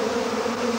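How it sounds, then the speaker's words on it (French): A cartoon bee buzzes in a steady, loud, continuous drone that fills the whole short moment, with no voices over it. "d'habitude, les abeilles font beaucoup de bruit"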